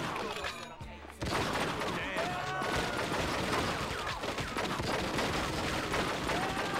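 Video game gunfire from True Crime: Streets of LA, with dense bursts of rapid shots and crackling fire in a chaotic shootout, loud and sustained after a brief quieter moment at the start.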